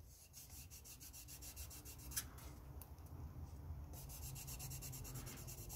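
Steady, close rubbing of fine-grit buffing across the plastic body of a 1/25 scale AMT 1967 Chevelle Pro Street model kit, smoothing out sanding scratches in a continuous soft rasp with a few brief scuffs.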